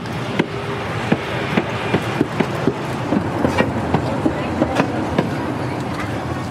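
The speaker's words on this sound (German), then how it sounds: "So, Zug fährt vor." A train pulls into a station, heard as a steady rolling rumble punctuated by repeated sharp clanks and knocks of the wheels and couplings, fairly close, with faint talk in the background.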